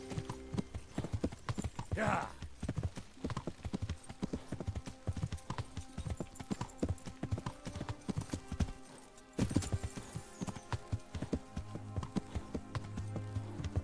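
Steady clip-clop of galloping hooves with a brief neigh early on, from the video game Kingdom Come: Deliverance, game music and effects layered underneath, and a single short spoken word.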